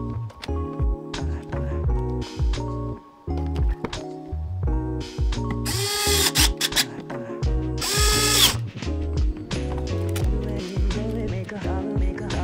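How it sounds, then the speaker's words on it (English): A power drill bores hinge holes into a robotic arm part, using the hinges as a drilling guide, in several short whirring bursts with ratcheting clicks between them and a louder, longer run near the middle. "use them as a guide to drill"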